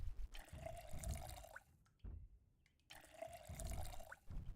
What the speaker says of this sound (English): let's see how much of these water pots we can fill up